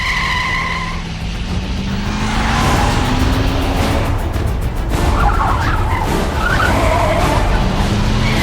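A car skids out of control as it swerves hard to the left while heading downhill. Tires squeal and the engine roars loudly and close throughout, with a sustained rising whine and no talking.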